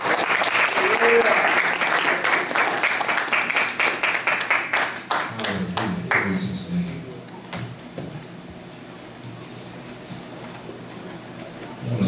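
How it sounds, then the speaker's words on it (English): A church congregation at a morning service claps hands together in a dense, steady round of applause that runs for several seconds, then fades into quieter room noise and voices. "Let's show another hand clap."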